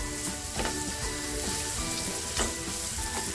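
Spices for bhindi masala frying in oil over a low flame, giving a constant close sizzle broken by a few soft stirring scrapes and clinks, with no one speaking.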